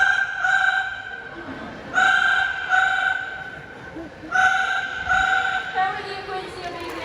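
Parrot at a bird show imitating a ringing telephone, several bursts of shrill electronic-style trills separated by short gaps, with crowd and ambient noise in the background.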